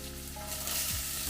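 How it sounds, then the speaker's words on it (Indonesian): Bitter melon marinade sizzling loudly as it hits a hot wok, a dense continuous frying hiss with a soft stirring scrape near the end. "kemudian marinnya dimasukkan ke dalam wajan itu"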